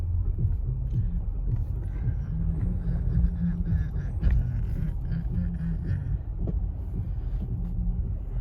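Car interior in bumper-to-bumper New York City traffic on a Friday night, with a low, steady engine and road rumble that continues throughout without breaks.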